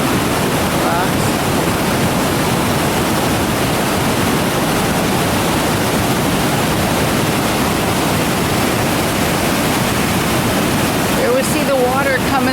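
Silver River Falls pours down over rocks in Skanee, a loud, steady broadband rush of falling water that holds for the whole stretch with no break, close by and alone.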